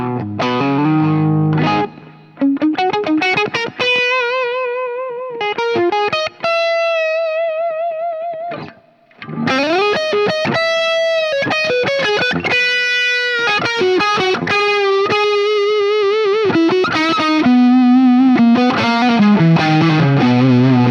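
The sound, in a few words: electric guitar through Boss SD-1 overdrive pedal with reverb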